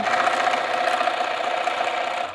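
A sewing machine stitching quilt pieces runs steadily at close range, a fast even mechanical whir with a constant hum throughout and no talk.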